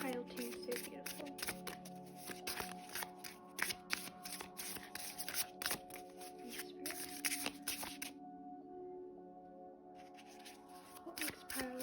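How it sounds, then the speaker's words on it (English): Tarot cards shuffled and handled in a pick-a-card reading, with soft repeated riffling and slapping card sounds close by, a short pause near the end, and a voice speaking over parts of it. "I'm gonna draw some more cards, or maybe just one card, we'll see."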